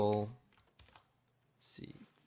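Soft clicking keystrokes on a computer keyboard during an After Effects session, a few light taps in the middle, with brief bits of voice at the start and end.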